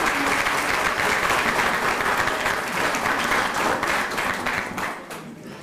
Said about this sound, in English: join me in giving our powerhouse a great round of applause for their great effort.